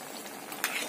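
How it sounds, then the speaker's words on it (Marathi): Chakli, a rice-flour snack, frying in hot oil until crisp, giving a steady, close sizzle with a brief sharper clink of a utensil near the end. "छान अशा क्रिस्पी होईपर्यंत आपण याला तळून घेणार आहे"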